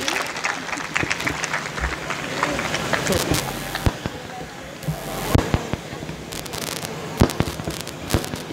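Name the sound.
applause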